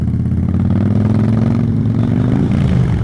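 A motorcycle engine runs close and loud with a steady throbbing drone that rises in pitch near the end as the bike pulls away during rider training.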